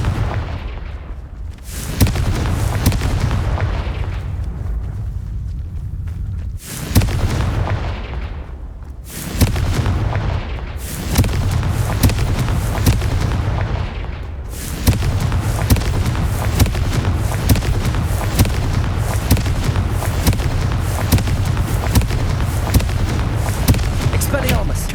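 Fiery Confringo blasting spells in Hogwarts Legacy burst repeatedly, four or five heavy booming explosions with decaying rumbles, amid ongoing combat noise and spoken spell incantations.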